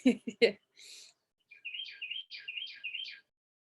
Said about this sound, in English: I'm hearing a bird chirping